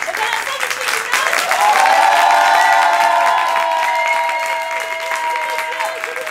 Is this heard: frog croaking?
no